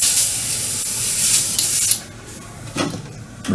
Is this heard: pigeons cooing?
no